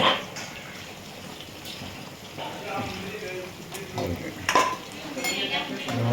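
A pot of drumstick and mango curry with tamarind and potatoes is stirred, the ladle scraping and clinking against the metal over a faint bubbling, while someone talks.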